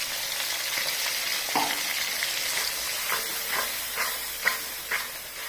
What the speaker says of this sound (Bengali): আমি এটা সুন্দর করে ভাজবো যতক্ষণ না তেল বেরোবে।